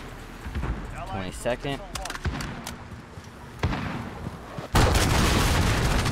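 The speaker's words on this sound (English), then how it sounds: "that cruise missile just saved my life" A cruise missile strike explodes in Call of Duty: Modern Warfare, a sudden loud blast near the end that trails into a sustained rumbling roar, after scattered gunfire and brief talk.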